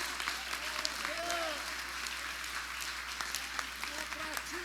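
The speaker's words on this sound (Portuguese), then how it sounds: "Igreja do Senhor, dá uma salva de palmas para Jesus." A church congregation at a thanksgiving service claps steadily and evenly throughout, with voices rising and falling over the applause and a low electrical hum running underneath.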